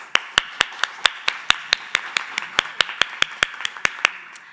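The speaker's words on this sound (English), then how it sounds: "So let's give a round of applause to our sponsors." Sharp, evenly spaced claps ring out at a conference welcome session, a single pair of hands or a small group beating a steady rhythm of about four per second, fairly close and without voices.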